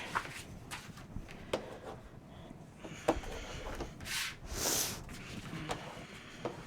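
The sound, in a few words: burnishing scrapbook album pages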